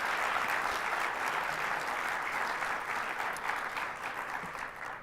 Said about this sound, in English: So a big round of applause for all of our sponsors.